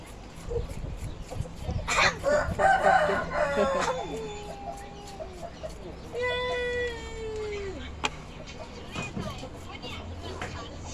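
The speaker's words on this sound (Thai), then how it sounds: "เสียงไก่" A rooster crows once in the middle distance, a long drawn-out call, preceded by scattered clucks and other farmyard noise, with people talking faintly in the background.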